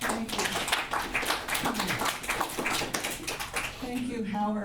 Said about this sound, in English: Can you please give them another round of applause?